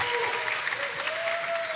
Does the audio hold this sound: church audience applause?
yes